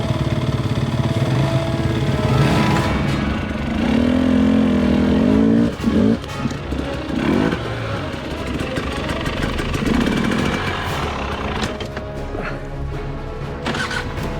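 A homebuilt motorcycle meant to rival a KTM runs after its starter motor is fixed, the engine droning loud and close with shifting revs, while a voice talks over it.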